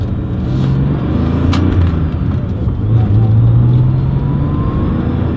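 A 1995 Porsche 911 993 Carrera 4 drives along, heard from inside the cabin as a loud, steady engine drone with road rumble and a rising tone as it accelerates.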